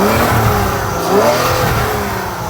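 Bentley Continental GT with a 2005 twin-turbo W12 engine revs up close, a steady loud engine roar that swells slightly near the middle before settling back.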